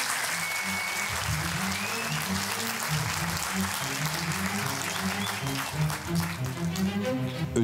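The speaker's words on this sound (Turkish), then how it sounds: "o kuvvetli alkışlarınızla büyük ustamızı huzurlarınıza davet ediyoruz" Sustained loud clapping from the crowd at a Sultanbeyli short film award night, continuous and even, with a voice talking over it and a brief whistle early on.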